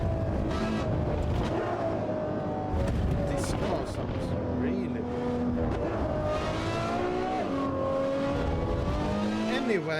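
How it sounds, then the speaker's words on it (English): A race car engine in the Assetto Corsa Evo driving game revs and shifts through gears continuously, rising and falling pitch with occasional tire noise, while someone talks over it. "This car sounds really good."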